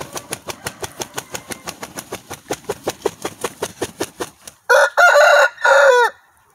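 Chickens cluck in a quick, steady run of short calls, then a rooster lets out several loud, drawn-out crows close by near the end.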